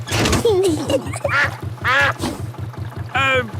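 Cartoon duck quacking on the water in a Peppa Pig episode, several loud nasal quacks in a row with a steady low boat-engine chug running underneath.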